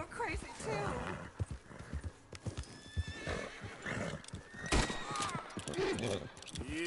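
Red Dead Redemption 2 gameplay with a horse's hooves clip-clopping in a steady walking rhythm, whinnies breaking through and someone talking over it.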